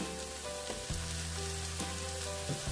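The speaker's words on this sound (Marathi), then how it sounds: "आता आमी हितून घालतली गोवन सॉसेजीस घालून बरे भाजूंक जाय" Goan sausages fry with onion and tomato for Goan feijoada, giving a continuous close sizzle and crackle with a few stirring knocks and no talking.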